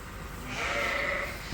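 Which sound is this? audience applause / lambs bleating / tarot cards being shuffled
lambs bleating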